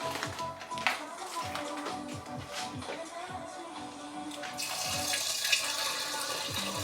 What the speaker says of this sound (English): I'm going to pour in some wine.